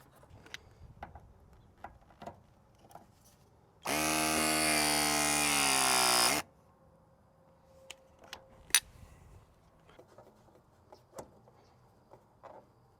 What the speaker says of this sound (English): Whenever you're deburring, you want to make sure the copper is tilted downwards so all the shavings fall right out.